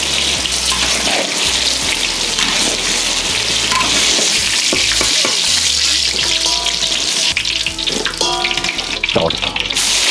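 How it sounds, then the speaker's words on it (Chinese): Eggplant deep-frying a second time in hot oil for braised eggplant, a loud, dense, steady sizzle running throughout with stirring clatter and faint background voices. "静香以后稍微有点黄颜色，想捞出来，再复炸一遍"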